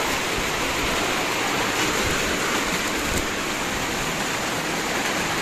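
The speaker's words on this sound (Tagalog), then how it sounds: "nagbugso yung malakas na ulan" Heavy rain pours down during a typhoon, a dense, loud, unbroken hiss that holds steady throughout with no voices.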